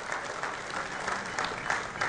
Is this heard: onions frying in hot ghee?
no